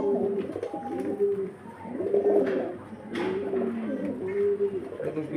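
Pigeons of a fancy breed kept for sale coo close by in repeated low, throaty phrases that rise and fall throughout, with a faint voice in the background.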